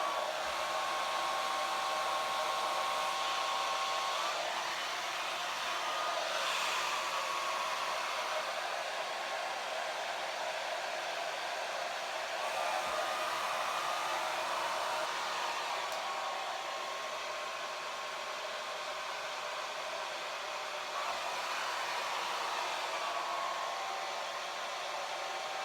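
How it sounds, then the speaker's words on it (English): A hair dryer fitted with a diffuser runs on its cool setting in a steady, airy whoosh with a faint whine. The airflow shifts slightly as it moves around curly hair, and it continues for a long stretch without talk. "I'm going to put this on a cool setting and I'm just going to diffuse my hair"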